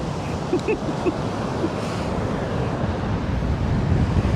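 Strong beach wind buffeting the microphone in a steady low roar, with faint surf underneath and a few brief indistinct sounds early on, at Topsail Hill Preserve State Park, Florida.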